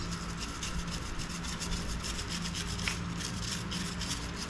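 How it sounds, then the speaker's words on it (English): Steady, close scrubbing rasps over motorcycle parts on a Virago 250 brat build. The brushing rubs on continuously at a low level, with no voice. "get in there and give it a good old scrub"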